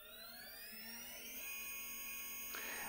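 The rotor head of an RC helicopter spins up as throttle is raised in normal mode, a whining motor tone rising steadily in pitch, close and quiet, with no talking.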